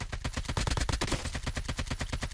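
Gunfire in the mobile shooter COD Mobile crackles in a quick, regular run of loud, close shots, a slightly heavier blast near the middle, with no talk.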